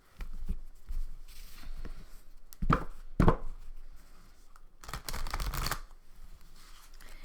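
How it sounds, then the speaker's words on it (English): Tarot cards are riffle shuffled and bridged in quick bursts, crisp papery flutters with soft taps and handling noises between them, close by. "I feel like one rifle shuffle and then we got our answers."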